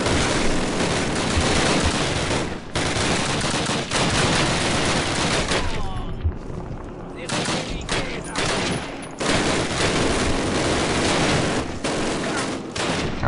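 Dense, continuous gunfire from Call of Duty gameplay, sustained bursts of automatic weapons fire with a brief lull midway, loud and close, with occasional voices in the mix.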